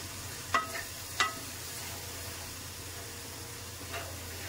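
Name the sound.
stirring tomato paste into frying doi katla curry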